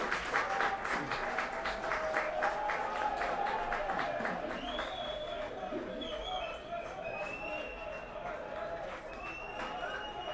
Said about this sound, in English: Let's clap for them, please.